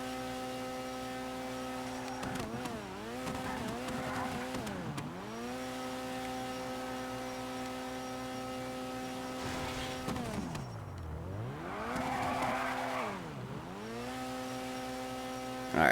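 In GTA 5, an all-wheel-drive car's engine drones at a steady pitch, repeatedly dipping and climbing as the revs drop and recover during drifting, with tire hiss surging midway; no voices.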